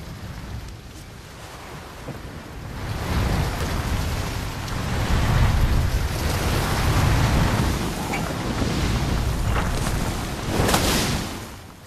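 Heavy rain and a thunderstorm at sea batter a small boat, with steady broadband downpour and surf swelling into louder rumbling peaks, no voices.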